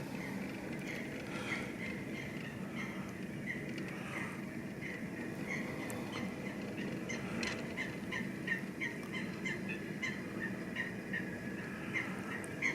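Seagulls call repeatedly in short, faint cries over a canal, heard at a distance above a steady low rumble of boat cruising and water.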